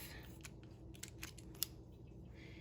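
Scissors cut the tip off a Ziploc bag in a few quiet, close snips over faint room noise, with no talk.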